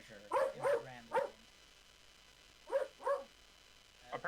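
A dog barks in two short bursts, three sharp woofs, a pause, then two more, fairly close and clear against a quiet background.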